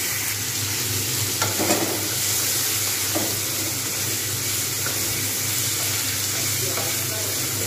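Chopped vegetables for sabudana khichdi fry and get stirred in a pan, giving a steady broadband sizzle with a few scraping spatula strokes, close and fairly loud, with no talking.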